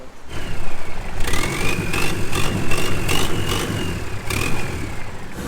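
A motorboat engine runs steadily nearby off the Phi Phi Islands, a low throbbing drone with a whining tone rising and falling over it, no voices.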